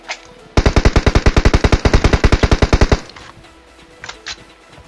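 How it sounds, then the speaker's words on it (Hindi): A loud, rapid burst of automatic gunfire in the mobile battle royale game BGMI, about two and a half seconds of evenly spaced shots, followed by a few faint distant sounds. "यहाँ पे गन साउंड से ही काम चल जाएगा।"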